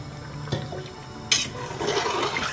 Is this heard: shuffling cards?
no